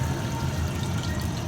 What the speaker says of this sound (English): You hear that little bubbling